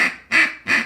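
A hand-cupped duck call blown in three short, loud quacking notes with a grumbly tone, close to the listener and alone, sounding like a greeting call to distant ducks.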